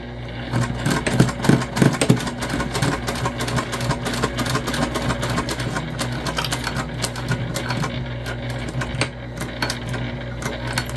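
A domestic sewing machine stitches the base of a large tote bag across double layers of webbing at a 3/8 inch seam, a fast continuous needle rattle with motor hum that keeps running nearby.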